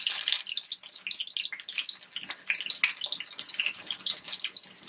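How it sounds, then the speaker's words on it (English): Tap water runs steadily into a sink while hands are rinsed during meal prep of salmon, potatoes and cabbage, a continuous close splashing hiss with small uneven spatters and no talking. "Let me rinse my hands off."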